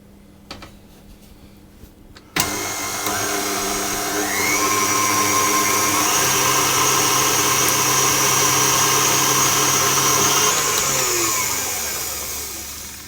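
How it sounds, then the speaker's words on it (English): An electric whisk beating eggs with salt for a chocolate hazelnut cake tart switches on abruptly after a quiet moment, then whirs loud and steady close by, its motor pitch shifting slightly before easing off at the end. "I'm going to whisk those until they start to thicken."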